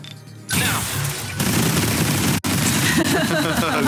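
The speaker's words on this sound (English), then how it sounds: "So many missiles." A missile barrage in 13 Sentinels: Aegis Rim, with loud, dense rumbling explosions and crackling impacts packed together in a continuous roar, and voices talking over it.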